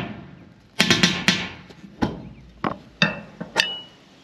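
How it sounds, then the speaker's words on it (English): Hammer blows and pry bar clanks while pulling ring shank nails from old barn siding during a post frame barn removal: seven or eight sharp metallic strikes at irregular intervals, close and fairly loud, with no talk. "you got to use a pry bar and hammer so you get it in there"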